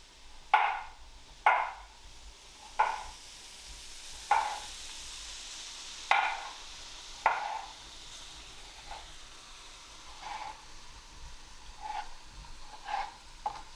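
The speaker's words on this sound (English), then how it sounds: "So we're just going to roughly chop that." A knife roughly chops tomatoes on a board in a series of sharp, irregular chops, about a dozen hits, close by over a quiet background.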